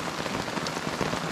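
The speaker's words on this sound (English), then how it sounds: "almost like a mist from the rain that's just everywhere, moving sideways." Heavy rain pours at night over Algonquin Park, a dense, even hiss of drops pattering steadily on surfaces close by, with no voices.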